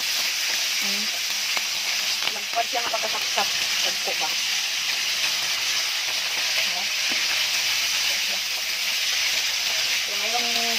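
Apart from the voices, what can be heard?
fish frying in oil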